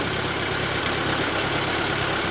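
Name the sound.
1939 Ford 9N tractor engine running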